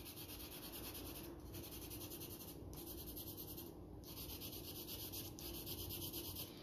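Soft, continuous scratchy rubbing of a colored pencil on paper, quiet and close, with a few brief pauses between strokes.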